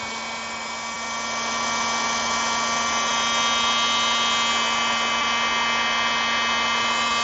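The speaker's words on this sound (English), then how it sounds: "This also is an adjustable heat gun. I have it set on pretty high." An adjustable heat gun set fairly high, shrinking heat shrink tubing over wiring during a Lotus Evora S rebuild, a constant close whirring blower hum that swells slightly louder after the first second and holds steady.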